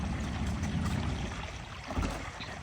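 Water gushing like a fountain from a leak hole, a steady close hiss and rush of spraying water with constant broadband splashing, no voices.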